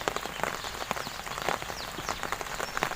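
Rain falls without letup at a roadside location during a fish and crab trap check, forming a thick, even hiss of patter with frequent individual drop hits and no talking.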